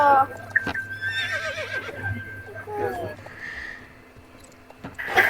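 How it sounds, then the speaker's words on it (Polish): A horse whinnies near the start, with a rising, wavering call over a steady hum, while people talk in the background. "co to za nowy koń?"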